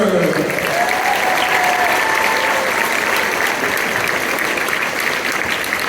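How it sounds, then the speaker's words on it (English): An outdoor festival crowd in Hawaii applauds hula dancers, loud continuous clapping with a few cheers and a voice calling out near the start. "One more round of applause for our dancers."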